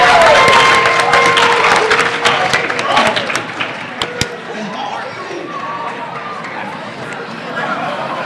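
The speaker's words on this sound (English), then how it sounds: "A big round of applause." A school academic assembly for seniors breaks into applause, loud clapping and crowd chatter at first that settle into a softer murmur of voices over the last seconds.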